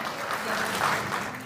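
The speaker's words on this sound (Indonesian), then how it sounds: "Bisa saya minta tepuk tangan sekali lagi buat tanda tangan ini ya." A crowd claps once more to mark the signing of a painting at an Indonesian gathering, with moderate, even applause throughout and faint murmurs beneath the clapping.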